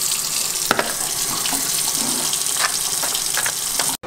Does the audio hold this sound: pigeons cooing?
no